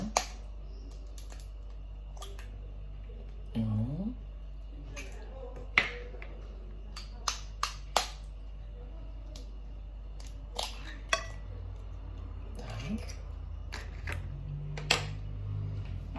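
Two eggs cracked into a mashed banana and pear batter for pancakes give several sharp, close clicks and taps spaced irregularly over a quiet kitchen background.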